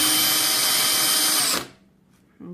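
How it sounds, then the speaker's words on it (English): A power drill bores through a clear lamp base, loud and steady whine for about a second and a half before cutting off abruptly, followed by a quiet pause and a brief renewed burst. "So it's drilled through completely."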